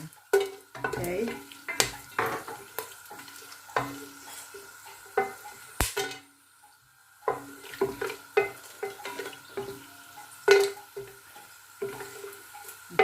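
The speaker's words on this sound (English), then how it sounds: "All the whole spices we put in" Whole spices, cloves among them, fry and get stirred in a pot for plain biryani rice: a soft sizzle broken by repeated sharp clinks and scrapes of a spoon against the pot, close up, with no talking.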